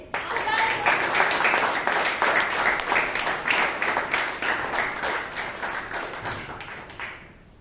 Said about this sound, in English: give a huge round of applause to Toastmaster Chaitra, our president